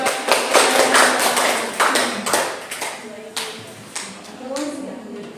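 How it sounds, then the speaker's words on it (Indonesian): A university classroom audience applauds a student group after its biology presentation, with dense clapping that starts full and gradually thins out and fades. "Beri aplaus bagi kelompok 1."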